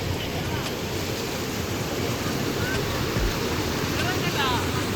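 Water pours steadily over the spillway of Unnichai Dam in Batticaloa, a broad, continuous rushing roar close by with wind buffeting the microphone and a voice faintly underneath.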